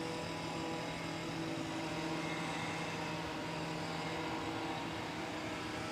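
A police helicopter flying over an apartment building, heard as a steady, distant droning rotor hum that holds at a constant level throughout, with no voices.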